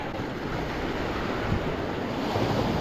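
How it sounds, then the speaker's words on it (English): Ocean waves wash continuously onto Sunset Beach, a loud, steady surf roar with wind buffeting the microphone and no voices. "he can't hear me over the waves"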